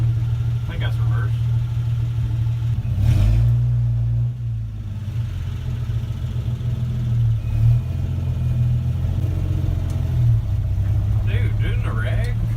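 A 1964 Dodge D100 pickup's engine rumbles steadily while driving, a strong low drone with a brief swell of revving near the start, loud and continuous under some talk.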